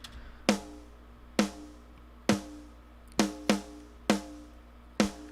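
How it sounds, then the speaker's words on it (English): A punchy metal snare drum, unlayered without added samples, hits alone, seven strikes at an uneven programmed rhythm, each with a sharp crack and short ringing tail. "on its own, the snare sounds like this without any of the extra samples that I layered in."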